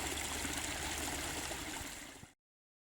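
A small waterfall in a garden koi pond trickling and splashing steadily, a continuous close wash of falling water that cuts off abruptly.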